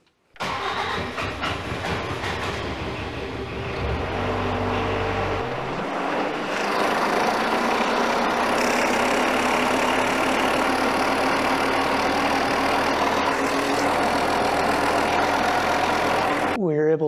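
A diesel engine cranks and fires up after a fuel leak repair, settling into a steady, loud, rumbling idle that continues to the end; some voices may be faintly present underneath.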